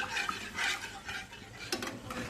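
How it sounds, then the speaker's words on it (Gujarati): Sauce for baked macaroni with pineapple being stirred in a pan to work out lumps, with close, continuous scraping and swishing strokes and a sharp utensil clink near the end, no voices. "આપણે લમ્સ નીકળી જાય ત્યાં સુધી આપણે એને હલાવતા રહેવાનું છે"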